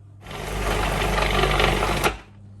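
A blender whizzes walnuts, flaxseed, Brazil nuts and almonds in one loud, continuous grinding burst lasting about two seconds, then cuts off abruptly.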